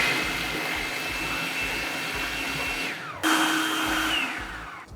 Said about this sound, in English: The food processor do all the work for us